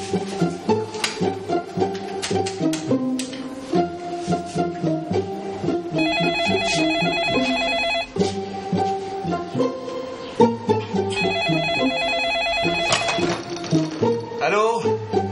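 A telephone bell rings in repeated bursts of bright metallic trilling, sounding over a background of music and other sound in a domestic scene from a TV drama.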